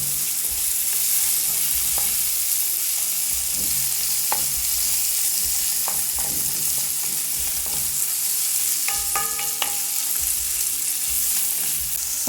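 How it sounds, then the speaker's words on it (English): Tomato paste frying and being stirred in a pot for chicken curry, a steady close sizzle with scattered scraping clinks of a spoon against the pot. "I also need my tomato paste to cook, so you add in at this point."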